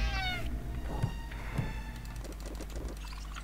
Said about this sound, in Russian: Можно попытаться кошку как-то сначала